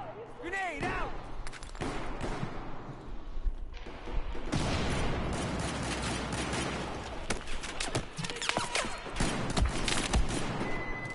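Battlefield 4 video game combat: continuous gunfire with an explosion, a sustained fusillade of shots at moderate loudness while players talk over the noise.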